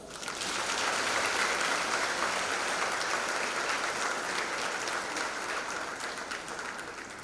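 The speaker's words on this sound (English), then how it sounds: "All the graduates deserve a bigger round of applause." A large audience at a university graduation ceremony applauds the graduates, producing a long, sustained wash of dense clapping at an even level from a crowd heard at some distance in a big hall.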